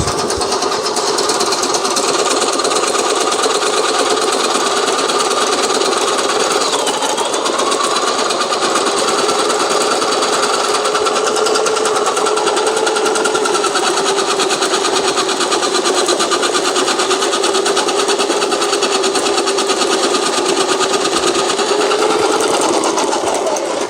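A Sonifer electric salad maker cuts a carrot, its motor whirring loud and steady close by for the whole stretch, the pitch dipping and rising slightly as it works.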